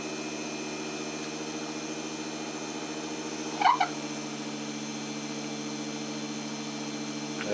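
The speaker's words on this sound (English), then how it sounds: "And the generator speeds up." A small bifilar toroid dynamo generator runs with a steady, faint electrical hum made of even tonal lines. A brief clicking rattle cuts in near the middle.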